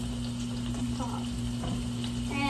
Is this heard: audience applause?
no